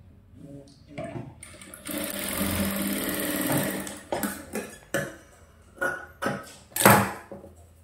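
A sewing machine stitches a princess-cut blouse, sizes 32 to 34, in one sustained run of close whirring followed by several short stop-start bursts, with no talking.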